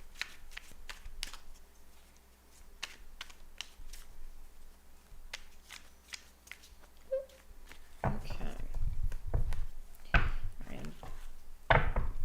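Tarot cards are shuffled in a few quick riffling bursts, close and crisp, with soft talking between the bursts.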